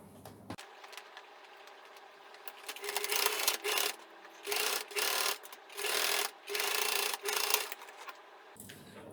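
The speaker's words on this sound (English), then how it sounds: "I'm going to sew in the same manner as did before, but this time I'm going to do a reverse at the beginning" A sewing machine stitches fabric pockets for an under-machine organizer mat, starting with a reverse stitch; loud bursts of motor whir come in about five runs, separated by short pauses, with no talk.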